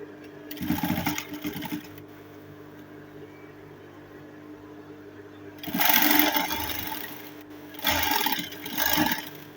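Sewing machine stitching Ankara fabric for a ball dress, running in three bursts of rapid whirring stitches separated by quiet pauses, close and steady.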